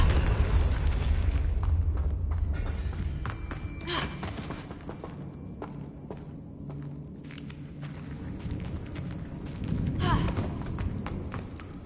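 A Confringo blasting spell explosion in Hogwarts Legacy on PS5 sets off a heavy booming rumble with thuds. It continues for several seconds, eases off, then surges again near the end.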